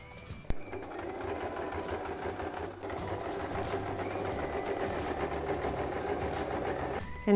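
A domestic sewing machine runs steadily at close range, stitching fabric for a travel baby changing mat, with an even mechanical whir that holds for several seconds after a brief click at the start.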